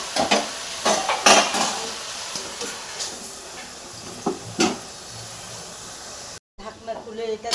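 Hilsa fish head curry with Malabar spinach is stirred in a frying pan, giving a close sizzle with bursts of scraping and clinking. The sound cuts out for a moment near the end, then resumes.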